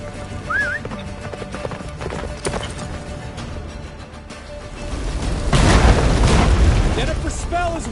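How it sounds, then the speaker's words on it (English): The horse Roach gallops in The Witcher 3 video game, with steady hoofbeats, a whinny and rumbling booms from the in-game action, plus character speech over the top. "Faster, Roach. Don't stop"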